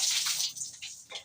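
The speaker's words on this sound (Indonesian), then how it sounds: "kita siram kembali" Water poured over the body during ritual bathing, a short close splash and gush that tapers into drips, with no talking.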